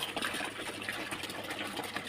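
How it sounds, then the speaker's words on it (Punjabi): A motorised crop sprayer works a paddy field, its engine giving a steady buzzing drone with a faint hiss of spray, close and continuous throughout. "ਪਾਪਾ ਇੱਧਰ ਝੋਨੇ ਨੂੰ ਸਪਰੇਅ ਕਰਨ ਲੱਗੇ ਆ"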